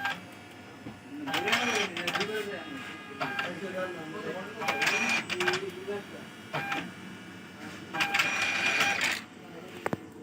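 A Zebra ZC300 ID card printer, opened up after servicing, runs a test print with bursts of mechanical whirring and clicking that come and go, under someone speaking.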